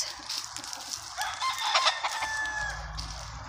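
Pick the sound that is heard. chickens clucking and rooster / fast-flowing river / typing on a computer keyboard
chickens clucking and rooster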